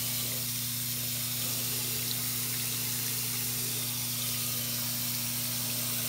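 Hot tap water pours steadily into a sink over a Tupperware container, a constant close hiss and splash under a low electrical hum, with no pauses.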